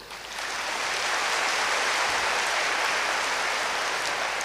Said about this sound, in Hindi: अगर ऐसा है तो अपने लिए ताली बजाइए।